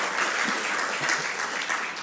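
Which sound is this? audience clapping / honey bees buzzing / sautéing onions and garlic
audience clapping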